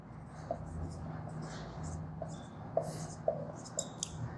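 A pen scratches out multiple-choice answer options for a complex-number maths problem in a quiet room, with short scraping strokes and small taps at an unhurried pace over a low steady hum.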